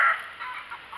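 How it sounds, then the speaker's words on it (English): Backyard chickens cluck softly at middle distance, a few short calls over a quiet outdoor background with no speech. "My chickens are trying to chime in here"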